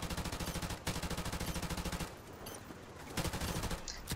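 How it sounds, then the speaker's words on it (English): M4 rifle fire in a video game, shot through a wall, comes as loud, rapid automatic bursts: a long stream, a brief break, more sustained fire, a quieter pause, then another burst. "Wolfgang with the M4 is gonna try to just wallbang him through the wall here"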